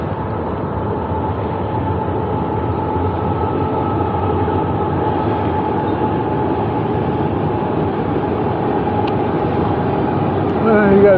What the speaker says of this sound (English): First train I seen coming down the other side of the tracks up there